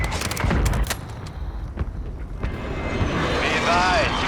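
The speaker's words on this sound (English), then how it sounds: "Friendly precision airstrike inbound" Warzone Resurgence precision airstrike: a burst of loud, rapid explosive blasts up front, then scattered booms and a swelling aircraft roar that fades out toward the end.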